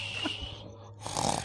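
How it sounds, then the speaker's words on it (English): A person snoring nearby in a casual studio setting, one rough drawn-out snore that cuts off and is followed by a louder rasping breath, with no talking over it. "You're snoring."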